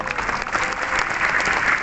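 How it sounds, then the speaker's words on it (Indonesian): Dense audience applause fills a large hall at a company grand launch event, steady and loud throughout with no break. "Tolong tepuk tangan dong."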